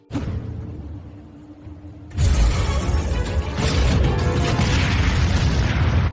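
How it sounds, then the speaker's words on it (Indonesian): A sudden loud, booming blast in an animated fantasy series hits after a quiet rumbling lead-in, then a dense, roaring wash of crashing noise sustains at full level. "Sehingga terjadilah sebuah ledakan"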